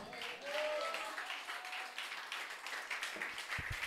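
A church congregation claps together during a Spanish-language sermon, a dense, steady patter of many hands filling the room for a few seconds, with a faint voice briefly audible near the start.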